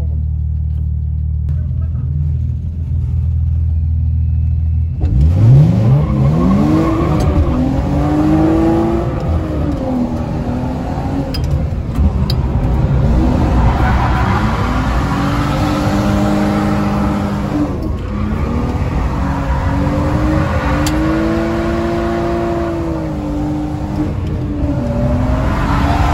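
Cars, including a BMW M3, drifting on a track: engines rev and rise in pitch over and over, sliding through repeated swells of acceleration after a quiet start, with faint talk beneath.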